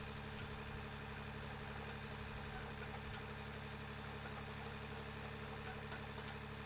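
A machine engine in the mining game Out of Ore drones steadily, a faint, even hum with a constant tone and no change in pitch across the whole stretch.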